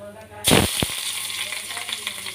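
Onion and green chilies drop into hot oil already frying mustard seeds and cumin, setting off a sudden loud burst of sizzling with sharp spattering crackles that settles into a steady close sizzle.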